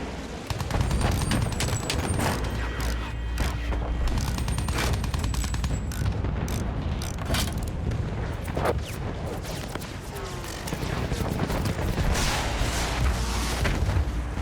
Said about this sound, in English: we have to do something about those flak guns!